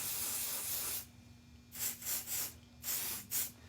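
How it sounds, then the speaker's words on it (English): Mold release sprayed from an aerosol can in a craft workshop: a long steady hiss, a pause, then four or five short close bursts of spray, loud and alone over a faint low hum. "I'm going to take it to the side and spray it a little more generously."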